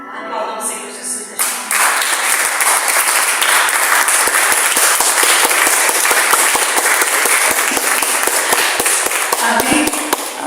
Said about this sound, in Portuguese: Aplaudam o Senhor Jesus